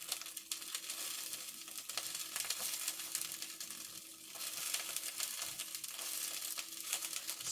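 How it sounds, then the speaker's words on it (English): Oats sprinkled into a pan of melted mixture for homemade granola with almonds and cranberries, giving a steady, close crackling sizzle with light stirring and crinkling textures throughout, no talking. "And so now I just sprinkle on some oats."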